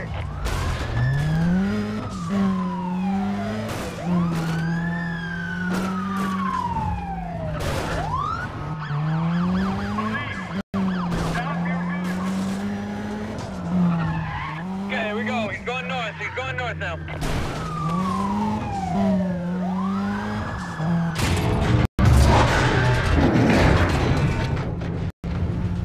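Police sirens wail continuously through a code 3 chase in the video game Need for Speed Undercover, rising and falling loud and close over engine roar and radio dispatch chatter.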